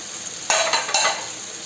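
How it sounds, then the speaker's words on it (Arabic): A pan of paella with chicken and seafood is stirred, a close, loud scraping and sizzle with two quick scrapes of the utensil against the pan over steady frying. "نقوم نخلطو الخليط كامل"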